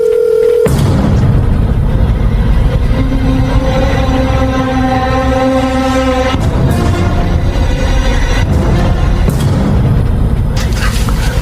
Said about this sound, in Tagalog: Ring lang din ng ring ang cellphone.